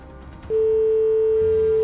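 Telephone ringing on a call during a live radio game-show draw: a single steady electronic tone starts abruptly and holds alone, loud and close, with no talk.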